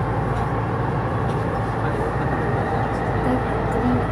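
A Dubai Metro train runs between stations, filling the space with a steady, dense low rumble and rolling hiss from inside the car, unbroken and fairly loud.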